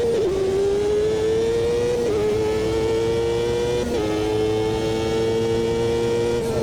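A race car engine in the Automobilista 2 racing game drones loud and steady, the pitch holding then dipping briefly at a couple of gear changes, with no talk over it.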